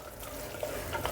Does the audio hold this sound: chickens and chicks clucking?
no